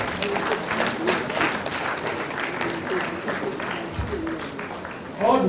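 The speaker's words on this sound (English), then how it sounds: "Let's give ourselves a round of applause" Applause from an audience at a university faculty of science open lecture, a rolling patter of clapping mixed with voices talking over it, rising into louder sound near the end.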